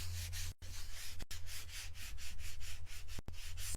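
Close, scratchy rubbing of wax onto a porous Chalk Couture tray, a rhythmic back-and-forth scrubbing broken by a few brief pauses, with no talk.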